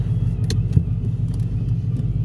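A Ford S550 Mustang GT driving at easy cruise, its engine a steady, loud low rumble throughout with a brief bump of revs near the start, no talking.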